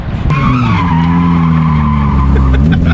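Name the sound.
drift kart with hydraulic e-brake sliding, tires skidding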